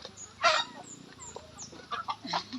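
Short clucking calls from a Rhode Island Red rooster nearby, a loud burst followed by softer scattered clucks over faint background noise.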